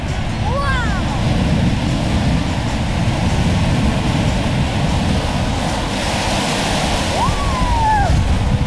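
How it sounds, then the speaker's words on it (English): Ocean waves on a chilly beach roll and wash in a steady, loud roar with no break, and faint high calls rise briefly over the surf. "The other fun thing I like to do is jump over the waves."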